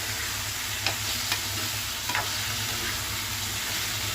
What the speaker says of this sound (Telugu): ముక్కలు కట్టేలా బాగా కలుపుతాం